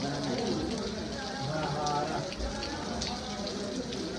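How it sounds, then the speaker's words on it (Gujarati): Heavy rain pours down steadily in Sami, a dense, loud hiss of drops hitting surfaces that stays constant throughout. "અત્યારે બહુ જોરદાર વરસાદ ચાલુ છે ભાઈ."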